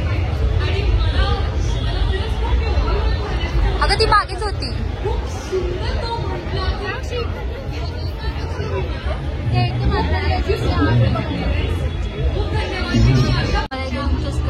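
Dense crowd chatter fills the Chhatrapati Shivaji Park art festival exhibition in Dadar, a steady babble of many voices close around, with someone speaking nearby over it.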